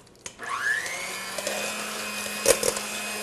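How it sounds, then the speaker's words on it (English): An electric mixer starts whipping chocolate pudding, its motor whirring up to speed and then running steadily, with a few sharp clatters of the beaters against the bowl near the end. "get my mixer started"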